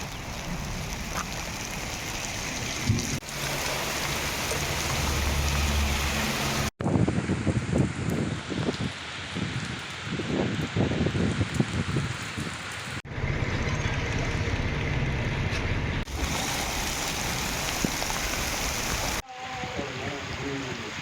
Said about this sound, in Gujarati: જાફરાબાદ, બાબરકોટ, મિત્યાળા, વારા સ્વરૂપ સહિતના ગામોમાં વરસાદ પડી રહ્યો છે